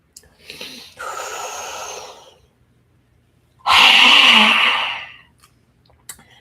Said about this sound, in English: We'll do a lion's breath. And lion's breath, you can keep going. And open your mouth wide. Stick out your tongue.